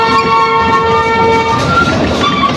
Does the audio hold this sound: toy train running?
yes